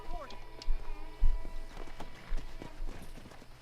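Horse hooves clop unevenly in Red Dead Redemption during horse wrangling, a few scattered thumps and steps mixed with game sounds, including a brief whinny-like call near the start.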